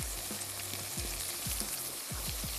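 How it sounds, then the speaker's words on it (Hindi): Cumin seeds fry in oil in a pan for a boneless fish gravy. A soft, continuous sizzle crackles close by with faint stirring scrapes, and no voices. "थोड़ा सा इसको पकाते हैं"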